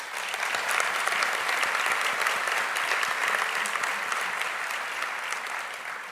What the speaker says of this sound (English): We can pause for some applause to all of those sponsors.